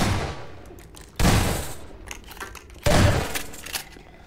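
Gunfire in the Half-Life 2 Episode One video game during a mini-boss fight, two loud sharp bursts a couple of seconds apart, each trailing off into a ringing decay.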